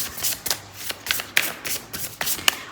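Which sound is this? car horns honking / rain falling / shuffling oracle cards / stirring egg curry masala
shuffling oracle cards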